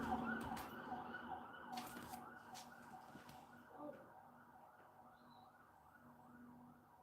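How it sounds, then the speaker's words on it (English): A wailing siren near a hospital rises and falls in a repeating pattern, distant and faint under steady traffic noise. "We're very close to the hospital here, so you will hear a lot of sirens and stuff."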